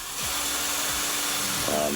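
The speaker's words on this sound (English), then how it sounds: "we're drilling just a couple holes" A power drill whines steadily while drilling zip tie holes for mounting an under-sink water filter, a continuous close motor tone with short pitch sweeps as it spins up and slows.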